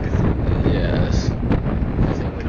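Strong wind buffets the microphone in a continuous low roar, with faint voices underneath.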